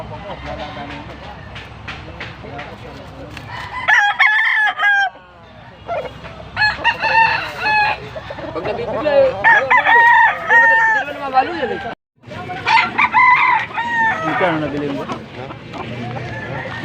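A nine-month-old stag (young rooster) at a Saturday poultry market in Pampanga crows close by in several drawn-out, harmonic calls. Other birds cluck and people talk in the background.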